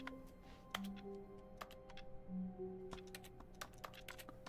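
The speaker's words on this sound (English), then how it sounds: "Why do I hear keyboard sounds when I press A?" Keyboard typing sounds in The Stanley Parable: Ultra Deluxe, quick irregular key clicks scattered over a faint steady hum, quiet and without talk.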